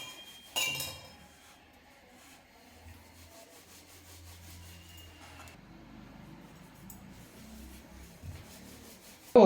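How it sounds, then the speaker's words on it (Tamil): Wheat flour dough for parotta is rolled out on a surface, giving a faint, steady, close rubbing and scraping with a couple of soft knocks, no talk. "இந்த மாதிரி மாவை தேய்ச்சிக்கலாம்."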